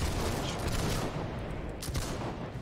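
Massed musket volley from a line of soldiers in the game Holdfast: Nations at War, a dense, rolling crackle of shots that fills the clip at steady loudness with no pause.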